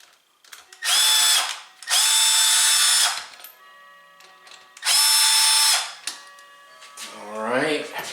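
Cordless power drill driving screws into a new American Standard toilet during installation: three loud bursts of whirring, each about a second long, with quieter handling noise between them and a brief rising motor whine at the end.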